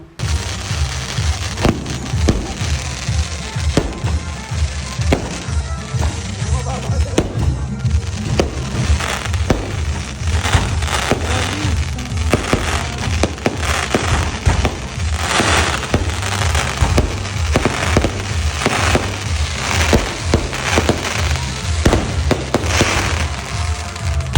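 A long, dense fireworks display at a church with rapid bangs and crackles popping continuously, loud and sustained throughout without any speech.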